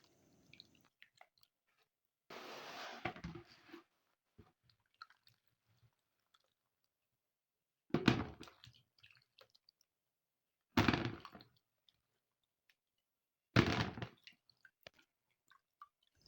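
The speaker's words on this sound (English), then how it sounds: "Then add some clean water to it and rinse." Fresh tomatoes are swished in clean water in several separate short bursts of splashing and sloshing, with near silence between them and no voices.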